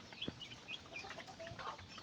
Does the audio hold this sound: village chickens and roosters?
yes